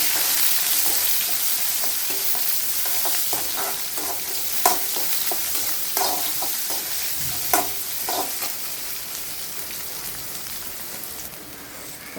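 Shallots, with curry leaves and local dried chillies, frying in oil in a pan while being stirred: a steady loud sizzle with scraping and clinking strokes of the spoon through it, no voices.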